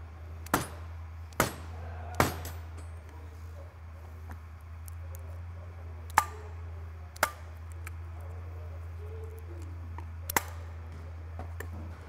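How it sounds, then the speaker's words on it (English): Several sharp, isolated taps on metal ring out at uneven intervals over a steady low hum, a hammer striking a Honda Camino PA50 moped engine crankcase in a quiet workshop. "you can just give it a good firm tap with a hammer"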